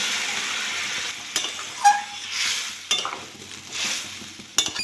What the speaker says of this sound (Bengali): এই সাইডে গরম জল করে নিয়েছি, গরম জলটা দিয়ে দেবো।